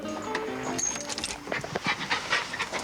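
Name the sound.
small white dog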